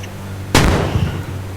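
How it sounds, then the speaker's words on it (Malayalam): A single loud gunshot cracks out midway through a Jurassic Park video game battle against dinosaurs, bursting sharply and then decaying into a rumbling tail over faint background tones. "വെടി വെച്ചുകൊണ്ടിരിക്കുകയാണ്"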